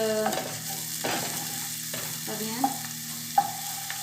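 Garlic frying in a pan for chicken adobo cooked without oil, a steady close sizzle with stirring scrapes and two sharp utensil clinks near the end, no voices.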